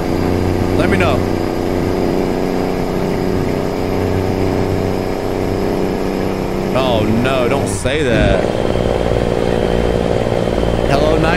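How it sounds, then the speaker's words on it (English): Steady engine drone of a Coca-Cola delivery truck running on a dangerous mountain road, loud and continuous throughout, with a person talking briefly over it. "nice truck and engine sound"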